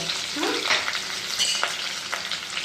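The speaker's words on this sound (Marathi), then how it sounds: "जिरे तडतडले, मोहरी पण तडतडली." Garlic cloves, curry leaves and sliced green chillies sizzling in hot oil tempered with crackled cumin and mustard seeds, a steady close frying hiss with small pops and stirring scrapes.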